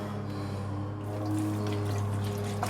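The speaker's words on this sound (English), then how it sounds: "now we'll just add a little more water" Water poured into a large pot of pig fat being rendered into lard, a steady continuous pour running the whole time over a low background hum.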